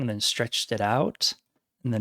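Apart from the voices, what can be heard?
None of the usual background noises is heard.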